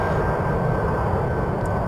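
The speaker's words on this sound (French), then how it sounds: "Ça c'est le arrière, il a un bruit du moteur," Twin jet engines of a Sukhoi Su-25 attack aircraft in the DCS military flight simulator roar steadily and loudly from behind, a dense continuous rumble with no talk.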